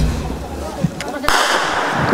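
Gunfire and blasts during fighting in Marawi, heard as a dull thump followed by a loud sharp report at a distance, with a rumbling echoing tail over constant background noise.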